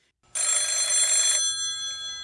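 An old-fashioned telephone bell ringing, one loud metallic ring burst lasting about a second after brief silence, followed by a lingering ringing tone that slowly decays.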